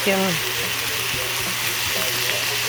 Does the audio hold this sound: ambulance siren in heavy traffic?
no